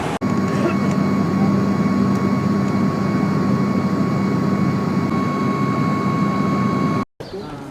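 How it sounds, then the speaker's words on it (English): Airliner engine drone on a flight to Skardu, a steady loud hum with a constant whine, heard from inside the cabin, continuous until a brief cut near the end. "now we're about to get on the airplane to head up to Skardu"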